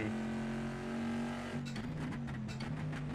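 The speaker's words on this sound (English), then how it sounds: "the Corvette is too loud" Corvette C7R race car engine in Assetto Corsa at Watkins Glen, a loud sustained drone with strong low harmonics that shifts pitch midway and picks up rough, crackling bursts as it keeps running.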